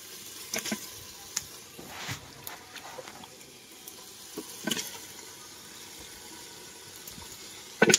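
Chicken dropped into a pan of fried spices with coriander and cumin, a soft, steady sizzle with faint stirring clicks and a sharper clatter at the end.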